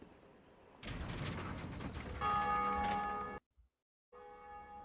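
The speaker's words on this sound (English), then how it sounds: "Now you can ring your own bell too." In the video game Dark Souls, a lever is pulled with a grinding mechanical clank and then a resonant bell rings out. The bell tone sustains, cuts off abruptly, and a fainter ring returns after a short silence.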